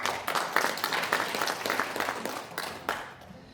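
An audience in a National Assembly conference hall applauds to welcome a speaker at a rally, a burst of clapping that swells and then gradually tapers off.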